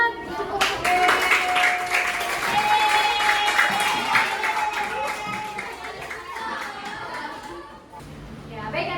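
A classroom of children claps together in a burst of applause, dense rapid clapping mixed with lively chatter and young voices throughout.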